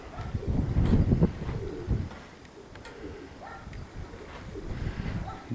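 Domestic pigeons coo softly at a pigeon loft, a few low repeated murmuring calls over wind and some rustling, close but gentle.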